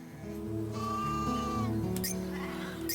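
A sheep in a video game gives a steady, wavering bleat that runs for about a second over continuous background game music.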